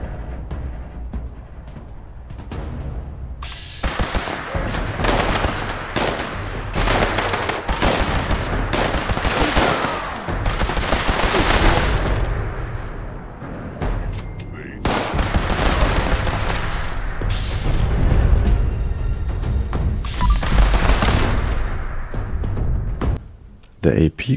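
Rapid automatic gunfire from a low-recoil weapon in the video game Fallout 76 rattles in loud sustained bursts with short pauses and a few booms, while a voice talks over it.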